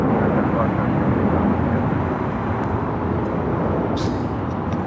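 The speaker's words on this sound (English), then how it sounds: "RNAV Docker, runway 25 right, clear for takeoff." A jet airliner departing runway 25 right at LAX, its loud continuous engine rumble filling the whole stretch at a steady level with a faint brief chirp near the end.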